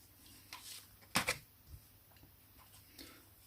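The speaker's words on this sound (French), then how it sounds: "Donc je vais tirer 3 cartes." Three tarot cards are drawn from a deck in a quiet room. There are a few soft, brief papery slides and flicks, the clearest a quick double rustle, all faint and close.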